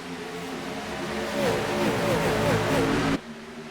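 A race car at the Daytona 500 revs hard and streaks away, its engine note climbing through loud rising sweeps before cutting off abruptly, with a commentator talking over it.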